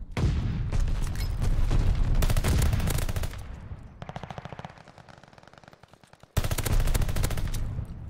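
Video game gunfire in a ranked gunfight: loud, rapid automatic bursts, then a quieter stretch of lighter shots, then another heavy burst near the end.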